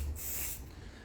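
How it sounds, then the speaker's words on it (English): Aerosol oil spray misted onto a dry hand for oily-hair care, a single hissing burst of about half a second, close and fairly soft, then quiet. "I'm going to spray some oil"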